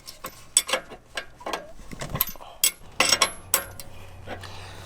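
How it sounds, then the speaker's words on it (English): A 3/4 inch wrench tightening a bolt on a Jeep JL Wrangler steering stabilizer, close and clear: irregular metallic clicks and ratcheting taps with small clanks, no talking. "we're going to go ahead and tighten this bolt up"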